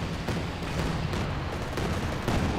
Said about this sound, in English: VIP rocket barrage engaging grenadiers